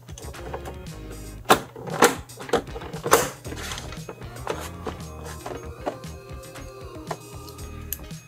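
Clicks and scrapes from a screwdriver removing the last security screw on a PS4 Pro's bottom cover during a deep clean: several sharp close taps and rattles clustered early, then lighter ticking and scraping fading toward the end.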